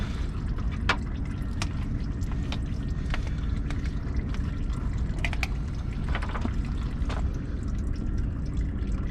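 Fluid pouring steadily into a vehicle's power steering system during a flush, a continuous liquid gush with scattered drips and clinks close by.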